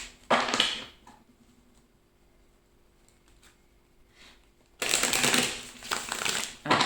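Tarot cards riffled and shuffled by hand, a short burst of crisp papery flutter, a quiet pause with faint handling, then a longer louder run of riffling as the deck is cut and reshuffled close up.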